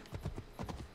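Horse hooves clip-clop in a brisk rhythm as a mount gallops off in the video game Assassin's Creed Odyssey, a quick run of several hoof strikes heard fairly faintly.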